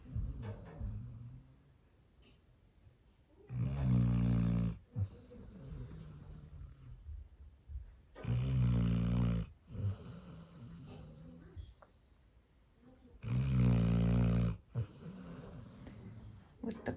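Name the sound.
person snoring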